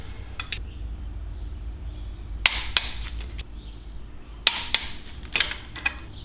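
Sharp metallic clicks from a torque wrench tightening the header bracket bolts on a Harley-Davidson Sportster 1200 to 32 foot-pounds, a few separate clicks and short bursts near the mic over low steady background hum.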